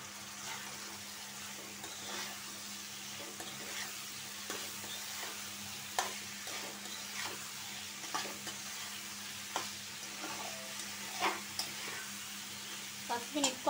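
Dried fish and fritters with potatoes fry in thick masala, a low simmering sizzle broken by repeated scraping stirs of a spoon against the pan, close and fairly quiet throughout.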